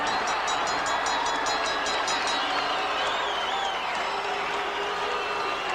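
A Boston Garden crowd at a 1986 WWF wrestling match roars in a dense, steady wall of cheering and applause, loud and continuous throughout.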